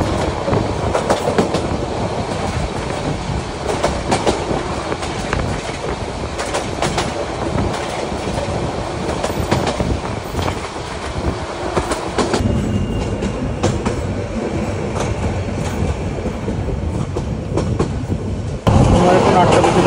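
Parjotak Express passenger train running from Dhaka to Cox's Bazar, a steady loud rumble with rhythmic clickety-clack of wheels on rail joints throughout, the tone shifting briefly near the end.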